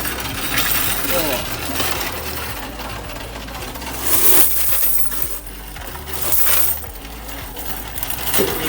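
Loose coins from a three-year-old piggy bank clatter and clink continuously in a busy, metallic jangle with surging bursts, and voices can be heard faintly underneath.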